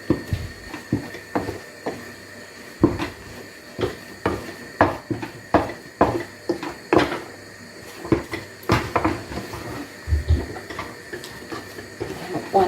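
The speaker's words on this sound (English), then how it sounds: "Keep stirring." Ugali flour mixture stirred in a pot, giving repeated scraping and knocking strokes at an irregular rhythm, near and fairly loud, with a soft hiss underneath.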